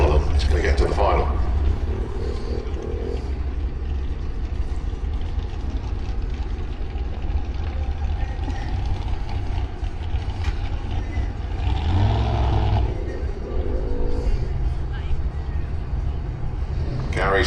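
Sportsman ET drag racing cars rumble steadily at the Santa Pod Festival of Power, then launch down the strip with rising engine roar, loud and continuous under a commentator's voice.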